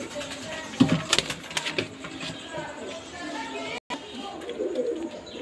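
Rampuri pigeons cooing softly nearby, with a few low throaty calls early on and faint birdsong and background chatter behind them.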